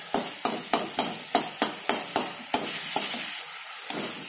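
An egg frying in a pan for egg idiyappam biryani, a soft sizzle running under a steady series of sharp, evenly spaced spatula taps and scrapes close by, easing off toward the end.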